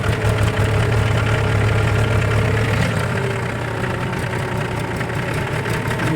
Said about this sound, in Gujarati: આ રીતનું ટ્રેક્ટર પાસે આપણે કલ્ટીની વ્યવસ્થા કરી છે